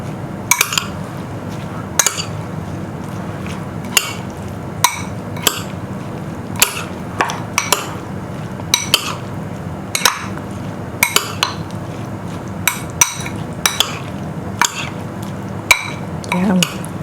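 A spoon mixing mango salsa in a bowl, with salt and pepper just added: frequent sharp clinks and taps of utensil on dish over a quiet background, scattered in an irregular stirring rhythm.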